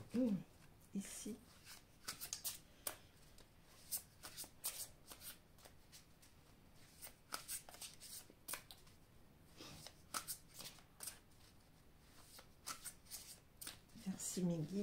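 Oracle cards shuffled for a tarot reading, quick papery riffles and flicks in irregular bursts close by, with brief soft talk at the start and end.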